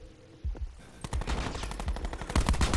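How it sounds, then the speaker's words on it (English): In the video game Call of Duty: Black Ops 4, rapid gunfire strikes a ballistic shield. After a quiet start it comes as sharp, loud repeated cracks and impacts in quick volleys, close and steady. "Ballistic shield taking shots."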